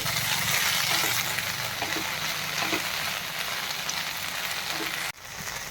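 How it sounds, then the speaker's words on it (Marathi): Okra sautéing in a pan for a bhendi sabzi, a steady close sizzle and frying crackle with occasional stirring scrapes, continuous and fairly loud throughout without talk. "आता भेंडी जेव्हा आपण परत परततो आहे"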